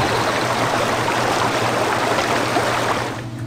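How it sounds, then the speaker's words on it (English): Steady broadband rush of a waterfall and flowing stream water in the Indiana Jones and the Infernal Machine video game's canyon level, continuous and loud throughout with no voices, easing slightly at the very end. "If you do go down the waterfall, there's a way back, but it's going to take a while."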